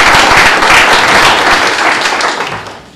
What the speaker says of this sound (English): Big round of applause for our studs.